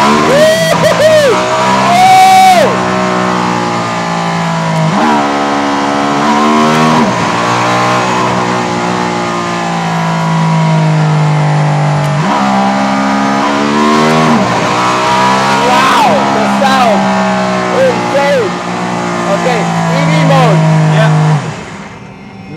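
A Mercedes-AMG One hypercar screams around a track, its engine revving high and rising and falling through gear changes with bursts of tire squeal from drifting, heard from inside with occupants talking and whooping over it.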